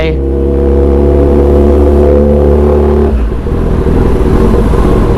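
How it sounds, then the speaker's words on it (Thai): A Kawasaki ZX10R big bike engine loud and close while ridden slowly, a steady low idle-like drone that shifts around three seconds into a rougher, rumbling throb. "เวลาบิ๊กไบค์ขี่ช้าแล้วมันเป็นยังไงนะ นี่นะครับผมเวลาขี่ช้ามันก็จะเสียงอย่างเงี้ยนะ"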